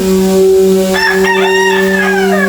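A rooster crows loudly and close by, one long rising and falling call with chickens around it, over a steady electrical hum in the background.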